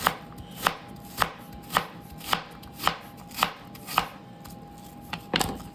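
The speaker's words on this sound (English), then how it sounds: "I just sliced an onion, and I'm just going to use some blocks of onion" A knife chops an onion into chunks on a cutting board for white chicken chili, with about nine crisp, evenly spaced thuds at a steady rhythm, close and clear in a quiet kitchen.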